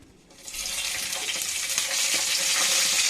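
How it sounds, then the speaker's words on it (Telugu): Two bay leaves sizzle in hot oil in a pan, starting quieter for the first half second and then holding a steady, loud, close crackling frying hiss. "ఇప్పుడు నూనె వేడైంది, 2 బిర్యానీ ఆకులు తీసుకున్నాను నేను."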